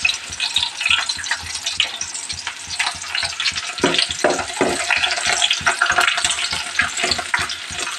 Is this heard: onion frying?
yes